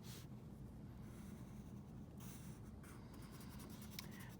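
Colored pencil scratching steadily across paper while drawing a winter fox, a continuous dry rasp of close strokes with brief pauses, no voices.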